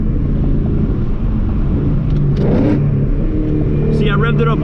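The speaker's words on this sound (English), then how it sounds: "See, I revved it up way more right there" A car engine revs up during a downshift inside the cabin, a low rumbling surge that rises and holds under continuous talking, with a brief higher whine near the end.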